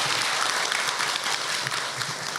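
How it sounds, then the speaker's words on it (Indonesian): An audience at a religious lecture claps for a woman, a dense, even wash of applause that holds steady and fairly loud from start to finish with no voices over it. "Tepuk tangan untuk ibu."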